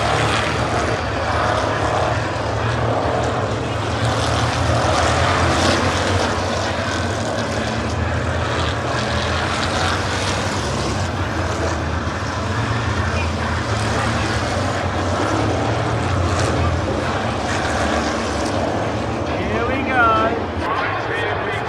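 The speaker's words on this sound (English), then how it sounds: "Drivers, start your engines." Race car engines firing up at Brands Hatch during an American Speedfest event, a dense, loud rumble of many engines mixed with crowd and PA noise, steady throughout, with talk over a loudspeaker.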